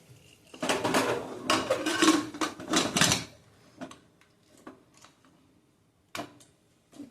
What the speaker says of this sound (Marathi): कुकरचं झाकण लावलंय, मीडियम फ्लेमवर 1 शिट्टी करणार आहोत।